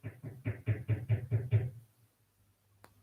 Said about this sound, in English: I can hear knocking.